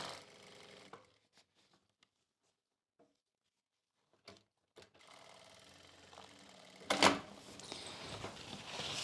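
A sewing machine stitches a stretched elastic belt onto a saree, running in quiet, intermittent bursts separated by near-silent pauses, with a longer, louder run near the end.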